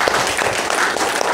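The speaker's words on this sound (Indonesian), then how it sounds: "Tepuk tangan untuk Mr. Tem" An audience applauds at an Islamic religious gathering, a dense, continuous patter of many hands clapping at close range, steady in loudness throughout.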